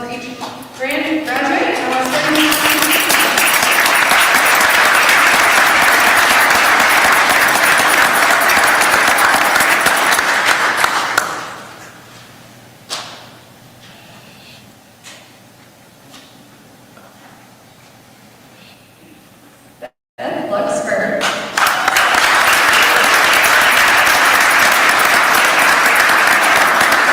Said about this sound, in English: so if we can hear a round of applause for each graduate